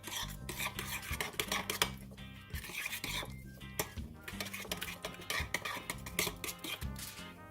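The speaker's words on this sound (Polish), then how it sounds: "Całość oczywiście dobrze wymieszam." A spoon stirs a marinade of salt and freshly ground pepper in a bowl, close scraping and clinking strokes repeating in an uneven rhythm, with background music underneath.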